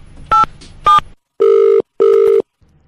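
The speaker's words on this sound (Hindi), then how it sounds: "डायल करो।" A telephone number is dialed: four distinct beep tones, two short and higher, then two longer and lower, each separated by silence. The tones are loud and close, with no talk.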